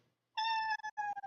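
A pet cat named Mr. Please gives one clear, loud, drawn-out meow followed by a shorter second meow, close to the listener.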